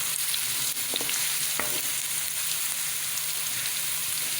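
Steady, dense sizzling of garlic frying in a hot pan, with a couple of faint utensil taps early on; no talking.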